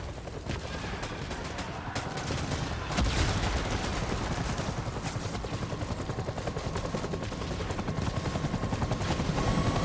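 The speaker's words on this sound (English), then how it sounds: "Random people shooting me." Gunfire crackles in Death Stranding on PS4 Pro, a sustained rattle of rapid shots layered over a helicopter-like drone, steady and fairly loud throughout with no talking.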